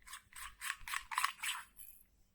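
The bottom part of a Cree XML-T6 UltraFire flashlight being unscrewed by hand, a close run of about six rough, ratcheting thread scrapes in an even rhythm, with no talk.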